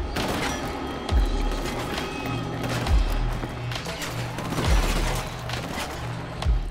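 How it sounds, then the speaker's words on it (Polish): Gunfire crackles in the first-person shooter Killzone: Shadow Fall, with dull booms landing roughly every second and a half amid dense battle noise and clatter, no voices over it. "Jeszcze jeden strzał."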